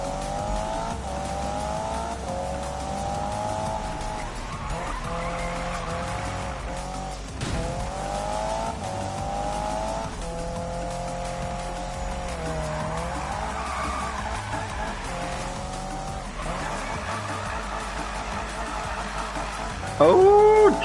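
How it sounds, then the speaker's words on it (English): A car drifting in a racing video game on PS4, with a steady engine drone and long wavering tire squeals that rise and fall over about twenty seconds, ending in a sharper squeal. "Oh, drift action"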